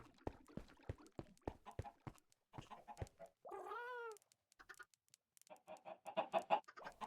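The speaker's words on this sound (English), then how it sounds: "Chickens." A chicken in the Minecraft video game gives a short, brief cluck at low volume, surrounded by quick clicking and tapping game noises.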